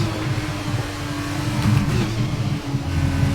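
An F2 race car engine in F1 22 at the Canada circuit, a loud steady high-revving drone with fluctuating pitch as the car runs at speed, heard alone without talking.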